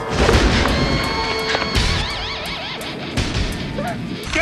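A woman strikes Michael Myers with a fire poker in a horror film scene, a dense run of loud smashes and heavy thuds over a swelling score, with shrill sweeping tones and sharp hits recurring throughout.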